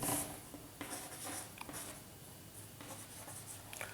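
Quick scratchy strokes of writing on a board during a lesson on plant hormones, a close run of short marks with brief pauses between them and no talking.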